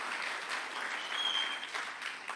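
A church congregation applauds during a special service, a steady wash of clapping held at a moderate level throughout, with no voices rising above it.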